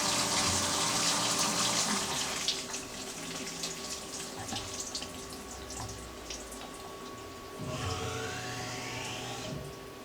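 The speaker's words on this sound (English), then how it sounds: "Flood coolant on this works pretty well." Flood coolant sprays inside a Tormach 1100MX CNC mill with a loud continuous watery rush over an underlying machine hum, briefly swelling into a stronger gush near the end.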